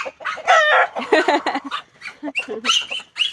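Home chickens clucking in a newly built hen house, with rooster-like calls mixed in; close, busy, repeated bursts that rise and fall, and a voice may be faintly present.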